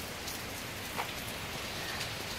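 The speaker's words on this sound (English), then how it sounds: "And it's raining." Steady rain falling, a soft continuous hiss of drops on surfaces with no voices, constant in level throughout.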